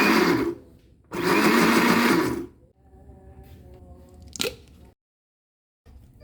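A kitchen blender whirs loudly in two long bursts as it purees leftover rice with water and crushed garlic, followed by quieter clatter and a brief sharp knock.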